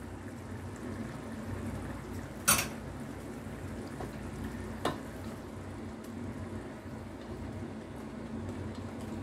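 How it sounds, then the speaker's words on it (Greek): Tomatoes simmering in a pan with sugar, pepper and paprika give a steady soft sizzle throughout, broken by two brief louder scrapes of occasional stirring. "Ανακατώνουμε κατά διαστήματα, έχει ακόμη νεράκι να πιει."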